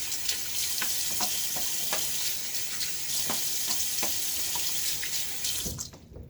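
A Gillette Tech safety razor is rinsed under a running tap, a steady close rush of water broken by rhythmic tapping and splashing, ending abruptly as the flow stops.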